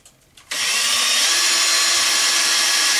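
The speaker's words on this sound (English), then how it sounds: "So we're going to drill some holes." A power drill bores holes for a homemade fertiliser extractor: after a quiet moment, a loud, steady high-pitched whine kicks in and holds close and constant to the end.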